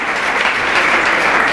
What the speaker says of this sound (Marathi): सेम टाळ्या